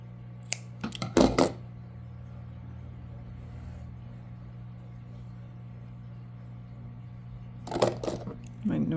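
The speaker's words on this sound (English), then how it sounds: "My noisy scissors." Scissors cutting yarn: two short bursts of sharp snipping, one near the start and another near the end, separated by a low steady hum with quiet background noise.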